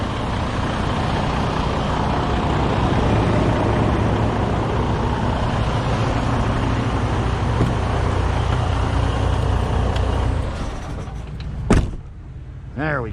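Thermo King Evolution APU mounted on a truck, running as a steady droning engine hum for about ten seconds, then shutting down, with a brief clunk and a sharp squeal as it winds off and the rumble falls away.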